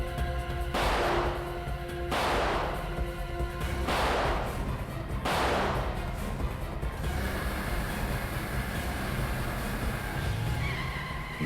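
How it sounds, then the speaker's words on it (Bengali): Gunfire during a car chase in a Bengali CID police crime drama: four loud, sharp shots with short decaying tails, spaced about a second and a half apart, followed by a continuous rumble of a moving vehicle. "দেখছিস কি, গুলি চালা।"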